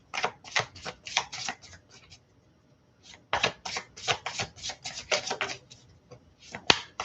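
Tarot cards are shuffled in quick riffling bursts, a crisp flutter repeated several times with short pauses between, close and clear.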